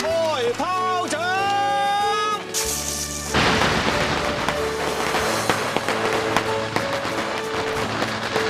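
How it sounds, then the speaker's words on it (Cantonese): Firecrackers burst in a rapid, loud crackling string at a shop's grand opening ceremony in Hong Kong, a continuous popping barrage that follows a short stretch of music and voices. "發財炮仗。"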